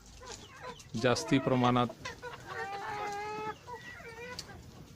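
Giriraja breed chickens in a poultry setting cluck and call in short bursts, moderately close, while a voice speaks over them.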